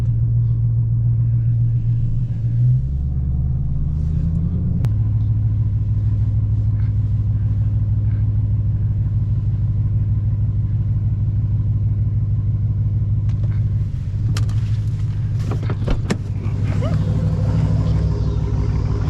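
A Dodge Hellcat Charger with a 924 hp Demon package rumbles loudly and close. The deep engine note drops and shifts pitch through gear changes, and a few sharp clicks and knocks come near the end.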